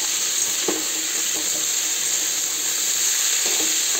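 Three pieces of raw fish fry in hot oil, giving a loud, steady sizzle with a few soft knocks of stirring, close up and without talk.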